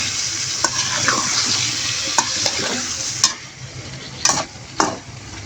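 Potato and sponge gourd being stirred into frying spices for a catla fish curry, a steady sizzle with scraping spoon strokes and a few sharp clacks against the pan.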